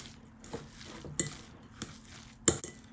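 Red and green peppers being stirred into vegan mayo in a bowl for a raw vegan tuna salad, with a few soft scrapes and sharp clinks of a utensil against the dish, spaced irregularly and close up.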